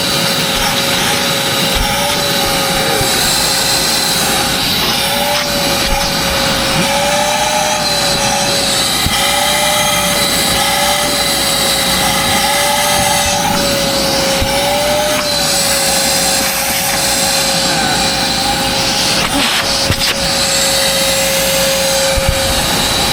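Vacuum cleaner motor running continuously during a repair test, a loud steady whine with a slowly wavering pitch over a rough rumble, close and unbroken throughout.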